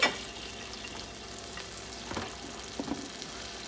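Half a cup of white wine hits shallots and garlic sizzling in a pan, a steady close frying hiss with a sharp burst at the start and a few brief louder sputters.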